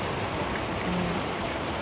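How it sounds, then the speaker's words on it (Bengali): A sudden heavy afternoon rainstorm pours down as a constant, dense hiss of falling water, even and unbroken throughout. "বিকেলবেলায় যে এতটা পরিমাণে বৃষ্টি ঝড় হবে এটা সত্যি বুঝতে পারিনি"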